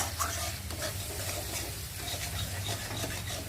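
A spicy Maggi masala with soy sauce and Kissan sauce is stirred in a pan, giving quiet rubbing and scraping strokes over a faint sizzle.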